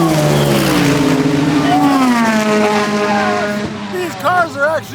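Race cars on a wet, rainy track sweep past one after another, their engine pitch rising then falling in loud passes, with more cars whining by near the end as a person talks.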